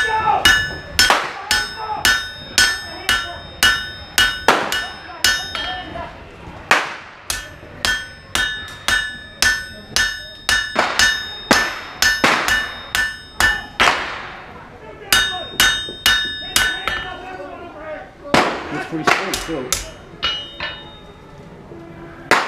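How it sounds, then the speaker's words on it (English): Hammer blows on a Bowie knife blade over an anvil, forging the bevels: a long run of sharp, ringing metallic strikes in quick uneven bursts, with brief pauses between sets, close and loud. "Before you hammer the bevels."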